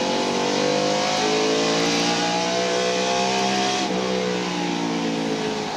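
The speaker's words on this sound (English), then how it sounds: "hear him back off the corner," A 1996 NASCAR stock car at North Wilkesboro Speedway, heard from onboard, holds a loud steady engine drone, then lifts off the throttle with a sharp drop in pitch before pulling again.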